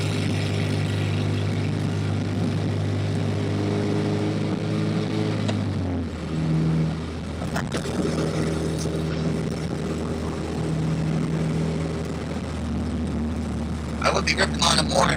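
Honda CRX with a K20A2 engine cruising through a residential neighborhood, a steady low engine drone that drops in pitch partway through as the car eases off, with voices talking over it.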